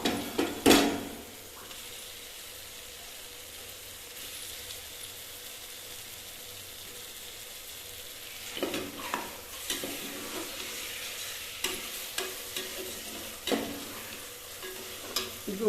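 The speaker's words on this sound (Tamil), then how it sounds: "முட்டை இப்படி முழுசாக போட்டுக்கலாம்" Boiled eggs, four of them whole, stirred into a frying masala in a pan while making millet rice egg biryani, with a brief loud clatter at the start, then a quiet sizzle and scattered scraping stir strokes later on.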